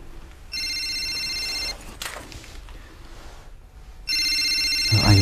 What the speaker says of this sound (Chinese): 我先接一电话啊